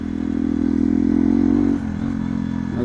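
Hero XPulse motorcycle riding on a highway, a loud steady engine drone with wind and road rumble, its pitch holding then dropping as the rider eases off.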